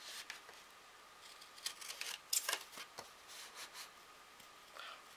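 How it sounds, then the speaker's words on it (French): Large scissors cut through paper card while an Easter card is being made, giving a series of soft, close crisp snips and rustles at a quiet level, with no talking. "J'ai pris les maxi ciseaux."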